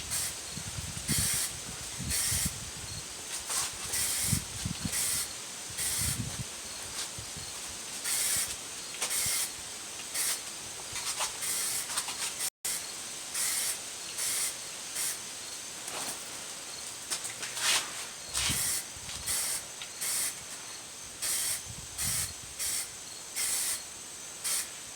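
Aerosol spray can applying metallic silver paint to a car bumper in light coats, many short rhythmic hissing bursts separated by brief pauses, close and fairly loud throughout.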